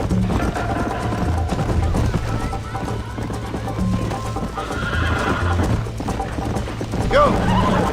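A horse in the Red Dead Redemption video game gallops with rapid clip-clop hoofbeats and lets out a loud whinny near the end, while people talk over the sound.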